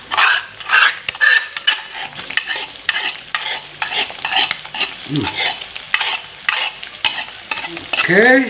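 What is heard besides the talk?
chilies frying in a pan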